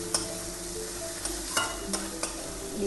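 Close, steady sizzle of chicken frying with chili and cumin powder in a pan, broken by several distinct spoon scrapes and clinks spaced roughly half a second apart as it is stirred.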